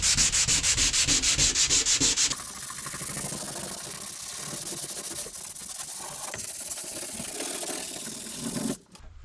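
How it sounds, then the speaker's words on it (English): Harsh, continuous rasping of sanding drywall joint compound on a wall, strongly rhythmic at first and then a steadier, softer scrubbing that stops abruptly. "we'll go ahead and start sanding this and cleaning up this joint"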